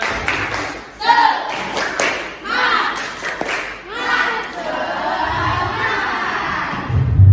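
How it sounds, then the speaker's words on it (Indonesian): A school class of children claps and shouts together in a rhythmic chant, loud and lively, with the teacher's voice leading between bursts. "Kita semangat, tepuk semangat dulu dong."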